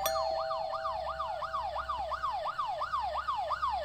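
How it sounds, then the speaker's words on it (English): Police sirens in the video game Fears To Fathom: a wailing siren sweeps up and down in a steady rapid cycle, loud and continuous, with a second tone layered beneath and a low rumble underneath. "Police sirens."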